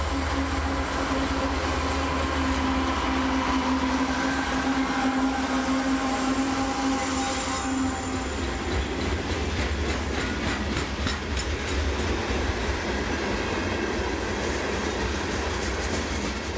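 A long southbound freight train hauling rock, led by GE wide-cab locomotives, rolls past near Wildwood, Jacksonville. A steady rumble is joined by clickety-clack wheel noise, and a high tone fades about halfway through.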